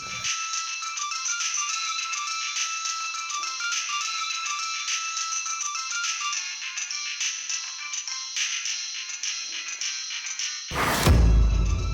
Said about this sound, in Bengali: বড় মাকে আবার কে ফোন করলো